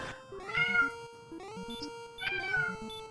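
Several repeated meows from a real cat, close and fairly loud, in three short drawn-out calls with brief pauses between, over quiet background game music and no talking.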